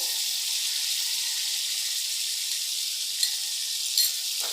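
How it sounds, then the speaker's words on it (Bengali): Ground spice mixture of ginger paste, chillies, turmeric, coriander, cumin and Kashmiri chilli powder frying in a pan, a steady close sizzle with a couple of brief scrape or clink accents near the end. "এবার মশলাটাকে ভালো করে কষে নিতে হবে"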